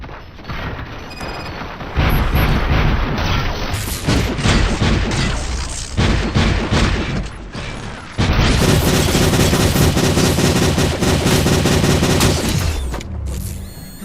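Dense film battle scene of rapid gunfire and booming explosions, loud and sustained with a brief drop midway before another heavy burst of shots and blasts, ending abruptly.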